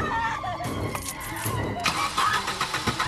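A car engine cranks and fires up, then revs as the car pulls away, its loud engine noise mixed with film music and effects while a narrator speaks over it.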